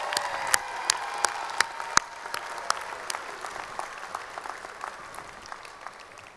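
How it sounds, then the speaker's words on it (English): Applause rings out at a Bergen Community College commencement ceremony after a professor sings the national anthem, a broad wash of crowd clapping with sharp individual claps standing out, steady at first and thinning slightly toward the end. "I think we need to give Professor Maria Griffo a round of applause again"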